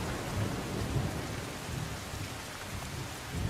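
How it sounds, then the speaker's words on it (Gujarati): Heavy, unrelenting rain falls in Navsari district, Gujarat, as a dense, even wash of hiss with low rumbling underneath. It stays steady with no voices. "નવસારી જિલ્લામાં રાત્રેથી અવિરત વરસાદ"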